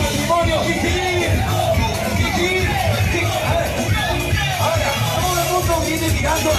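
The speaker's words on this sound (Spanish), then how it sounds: "3 hurras por este matrimonio" Wedding guests at a reception in Tacna, Peru, raise a loud crowd cheer for the newlyweds, with a mass of voices whooping and shouting together in a dense, continuous roar.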